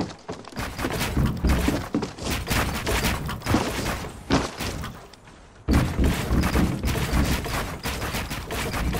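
Rapid bursts of gunfire in a video game as a player shoots down a build, with dense, loud volleys and impacts nearly throughout and a brief lull before firing resumes.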